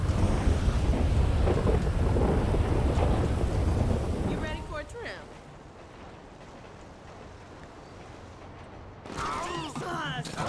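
Heavy rain and a thunderstorm in a video game make a loud, dense roar of downpour with rumbling, which drops abruptly to a quieter hiss midway before swelling again near the end.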